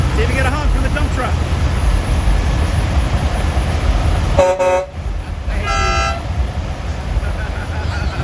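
Big rig horns blare at a nighttime truck show, with a sustained loud honk followed by a shorter blast over a noisy crowd and engine rumble, and people talking nearby.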